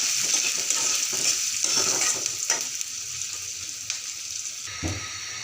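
Chopped onions with cumin fry lightly in a pan, producing a bright, steady sizzle punctuated by several stirring scrapes and clinks, loud at first then easing slightly, without speech.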